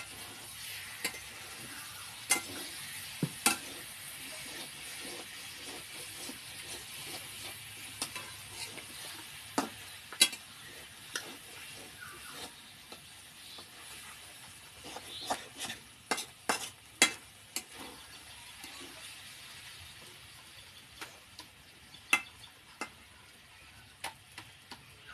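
Eggplant fries in oil with a faint, steady sizzle under scattered sharp clicks and taps of a spoon stirring against the pan.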